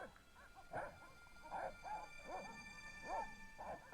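Dogs in the Broken Sword video game bark and yip in short repeated bursts, about five or six rough barks in quick succession, moderately loud over a faint steady hum with no talk.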